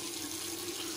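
Tap water running steadily into a sink while wetting a shaving brush during a wet shave, a continuous close hiss with no talk.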